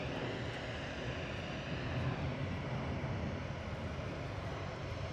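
Airliner going around after a missed approach at Manchester Airport, a steady distant roar of jet engines rumbling continuously through overcast sky, with no talking.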